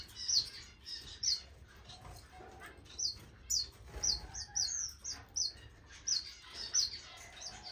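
Small waxbills in an aviary give repeated high, thin chirps, roughly a dozen sharp calls scattered over a faint, steady background hiss. They sound fairly close but quiet.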